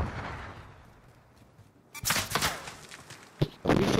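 Gunfire in the Call of Duty: Modern Warfare video game: after a quiet stretch, loud bursts of shots and impacts arrive close together, including one sharp crack, with no talk over them.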